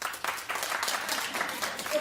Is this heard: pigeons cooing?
no